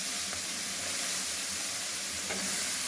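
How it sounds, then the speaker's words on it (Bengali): Bottle gourd and fish being stirred together in a frying pan for a gourd-and-fish pulao, with a steady close sizzle and soft scraping under it, no voices. "এই যে মাছের সঙ্গে লাউটা আমি মিক্স করলাম"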